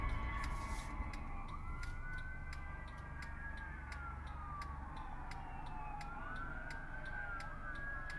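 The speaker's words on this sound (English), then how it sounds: "I'm hearing sirens, I don't know what that's about." Several emergency sirens, including fire trucks, wailing at once on a street, rising and falling and overlapping, with a steady traffic rumble underneath.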